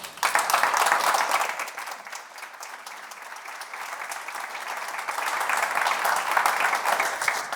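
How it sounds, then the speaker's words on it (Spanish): A conference audience applauds three panelists with dense, sustained clapping that swells at the start, dips slightly in the middle and builds again toward the end. "Yo quiero que empecemos dándoles un gran aplauso, por favor, a ellas 3."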